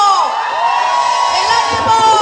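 A concert crowd at a live banda show in Saltillo, Coahuila, shouting, whooping and cheering together in one loud, sustained roar that swells again near the end.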